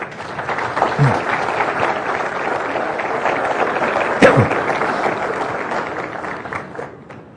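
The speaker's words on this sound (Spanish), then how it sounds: "Con ustedes, el padre Alfredo Sainz, para quien pido un aplauso fuerte." An audience applauds a priest introduced as a speaker at a lecture, a steady wash of clapping sustained for several seconds at moderate loudness, with a couple of brief louder bumps before it tapers off.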